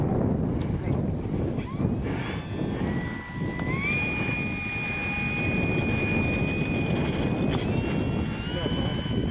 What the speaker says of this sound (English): We got the Dynam F6F Hellcat on the tarmac getting ready to take off.